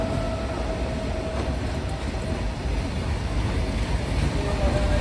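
A steady, heavy rail rumble fills the clip without a break, like a goods train rolling through a station nearby at constant speed without stopping.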